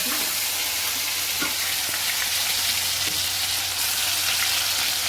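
Tomatoes and curry leaves sizzle in hot oil with cumin, a steady, close crackling fry with faint stirring clinks, continuous and without speech.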